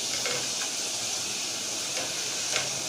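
Onions frying in a pan for a kaleji salan, a steady soft hiss and sizzle throughout, faint and even with a few small pops, no talking.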